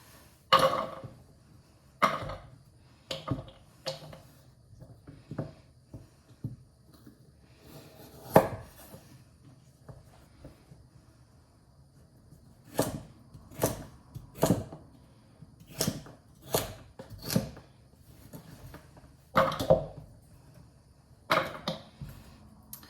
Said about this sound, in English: You want to cut them into small little bite-sized pieces the best that you can, and keep your hands out of the way of the knife.